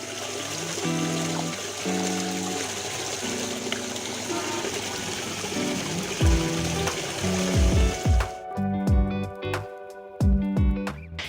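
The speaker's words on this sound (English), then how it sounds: "Just take a look at this Waterfall Grotto." Water from a waterfall grotto splashing steadily into a backyard swimming pool at a luxury home, a continuous rushing wash; toward the end it thins as other sounds cut in.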